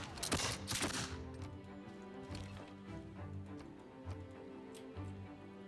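A field cannon attack in the Civilization 6 strategy game: a quick burst of sharp, loud blasts opens, then fades into soft game music that carries on underneath.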